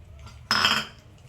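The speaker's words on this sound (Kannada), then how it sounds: "ಇಲ್ಲಿ ಒಂದು ಬಾಣಲಿಗೆ ಗೋಡಂಬಿ ಬಾದಾಮಿ ಹಾಕಿ ಹುರ್ಕೊತಾ ಇದ್ದೀವಿ" Cashews and almonds tipped into a frying pan for roasting in ghee give one brief, close metallic clatter and rattle, then quiet.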